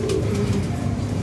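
A red-eyed pigeon coos softly and steadily at close range, over a low continuous rumble.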